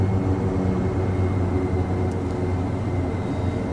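Steady, loud drone of the AT-802 Fireboss turboprop engine in a VR flight simulator during a landing approach, a constant low hum with no talk over it.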